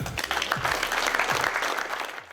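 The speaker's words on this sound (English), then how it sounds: "Clap it up." An audience claps together at a college student program gathering, a brief, dense burst of applause that tapers off within a couple of seconds.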